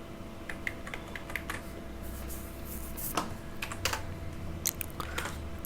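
Someone types on a computer keyboard in irregular bursts of light clicking keystrokes, close and fairly quiet, with a steady low hum underneath and no speech.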